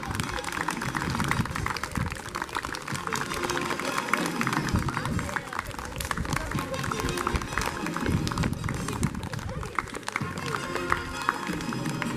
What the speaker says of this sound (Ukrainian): Аплодуємо.